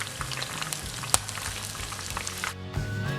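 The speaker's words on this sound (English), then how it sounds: "Listen to the sizzle, it's so satisfying." Steady crackling sizzle of corn cheese balls frying in hot oil, close and continuous, with a brief sharp pop partway through.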